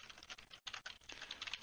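Rapid keystrokes on a computer keyboard during report writing, a steady near patter of clicks with one brief pause, no voices.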